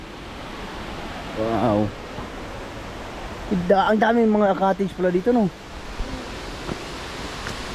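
Edraline Falls waterfall gives off a steady, broad rushing roar that fills the whole stretch. People talk over it now and then.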